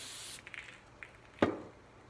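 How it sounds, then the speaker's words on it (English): Brake cleaner sprays onto Mazda Miata MX5 engine parts in a short, sharp hiss, preceded by faint softer spurts, close and fairly quiet. "Just give them a good shot of brake cleaner"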